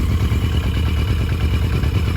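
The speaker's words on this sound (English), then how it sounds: "And now we're idling pretty smoothly." A motorcycle engine idling close by, a steady low throbbing rumble with even pulses and no voices.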